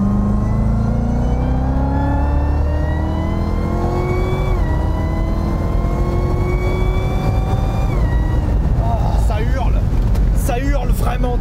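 A 650-horsepower car engine revs loudly, pitch climbing in long pulls with shifts between them and a gruff rumble underneath, while people talk over it.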